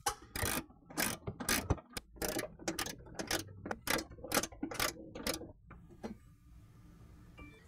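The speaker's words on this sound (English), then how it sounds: "we're gonna move the 3 bolts that hold this factory bracket on" A hand ratchet backs out the bolts holding the factory air pump bracket on a 2012-15 Toyota Tacoma 4.0L, giving close, crisp bursts of rapid clicking in short repeated strokes with brief pauses between them.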